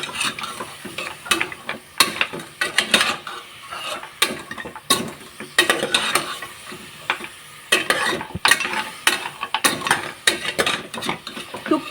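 Paya soup ingredients frying on a high flame, with busy stirring and sharp metal clatter of a spoon scraping the pot over a low sizzle, sounding close and irregular.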